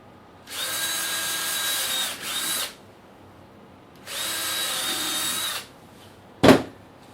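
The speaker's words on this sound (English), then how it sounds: "We'll go ahead and drill those." A power drill bores mounting holes during installation of a gas-saving device, two steady whirring bursts of a couple of seconds each, close and alone, followed by a short sharp knock.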